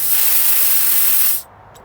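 An Accucraft Ruby 45mm gauge live steam locomotive hisses in a loud, steady, close rush of steam that cuts off abruptly near the end, followed by a brief faint puff.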